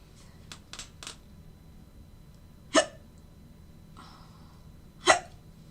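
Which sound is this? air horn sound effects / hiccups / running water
hiccups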